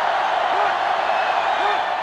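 Stadium crowd roaring steadily in the NCAA Football 2005 video game, a Clemson Tigers vs Florida Gators matchup, a dense continuous wall of cheering with faint whistle-like rises.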